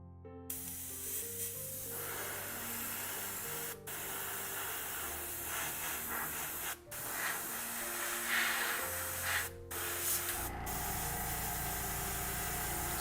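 An airbrush sprays paint onto a Briar Queen miniature in a continuous soft hiss, briefly interrupted by a few short pauses, over a faint low hum in the room.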